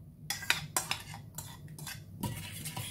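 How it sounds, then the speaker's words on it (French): A spoon stirs yeast in a bowl for quick bread dough, scraping and clinking against the sides in quick, irregular strokes, close and fairly quiet, with no talk. "et là on mélange."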